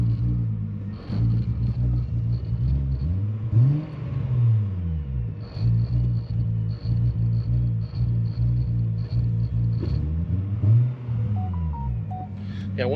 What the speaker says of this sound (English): I wonder if the camera will pick up those little pops that it's doing.